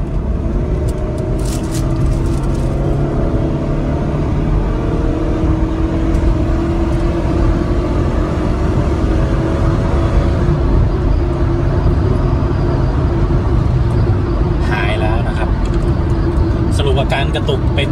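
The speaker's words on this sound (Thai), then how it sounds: "เดี๋ยวเราจะทดสอบกดคันเร่งนะครับก็ฟังเสียงเอานะครับ" A Toyota Camry ACV30 engine revving under acceleration on the road with a stuttering misfire at high rpm, a steady loud drone with cabin noise and someone talking over it.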